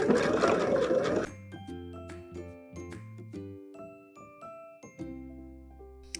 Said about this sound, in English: we want to sew it all the way around the edge